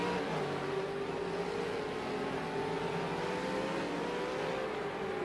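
V8 Supercars engines droning steadily in a sim race at Ruapuna Park, a continuous mid-level roar with slowly shifting pitch and no talk.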